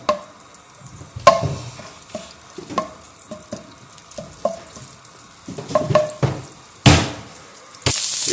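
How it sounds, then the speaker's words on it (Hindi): Ginger garlic paste fries in desi ghee in a pan, a soft sizzle broken by repeated spoon knocks and stirring scrapes, with a louder burst of frying near the end. "इसके अंदर शामिल करेंगे 1 टेबल स्पून अदरक लहसुन का पेस्ट। इसको हम पकाएंगे"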